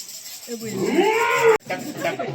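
A street play actor imitates a buffalo's moo with his voice, one drawn-out, wavering low call that rises and falls, close and loud, followed by a short burst of other voices.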